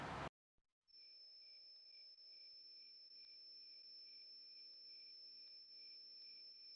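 Crickets chirp in a steady, high, continuous trill, fairly faint, after a brief loud burst at the start.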